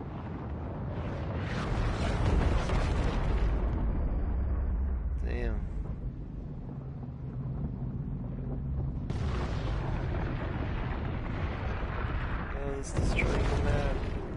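Massive rumbling explosion as Tilted Towers is destroyed during the Fortnite unvaulting live event, a long sustained roar with bursts and crackles, loud and close, while players react excitedly over it.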